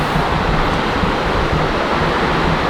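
Steady broadband hiss of rain, a continuous wash of noise with low rumbling underneath, no clear breaks.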